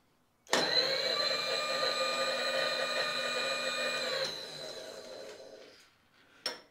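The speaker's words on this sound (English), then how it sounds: "Fire the machine up." A horizontal band saw starts with a sharp onset and runs with a steady whining hum and high tonal ringing for about four seconds, then drops to a lower drone and winds down, ending with a brief clatter.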